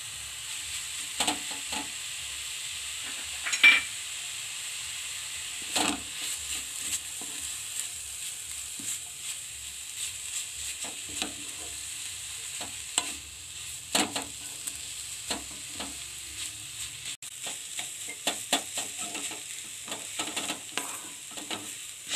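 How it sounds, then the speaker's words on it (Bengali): Mixed vegetables being stirred and fried in a pan for a Bengali veg patisapta filling: steady low sizzle under repeated scraping clinks of a spatula, close and moderately quiet, with no talking. "এবার ভালো করে নেড়ে নেব। দু মিনিটের মতো নেড়ে নিলাম।"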